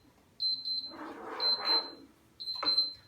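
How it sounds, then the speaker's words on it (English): A kitchen timer beeps in three short bursts of repeated high electronic tones while cashew brittle cooks, with some clatter and shuffling in between. "there's my timer"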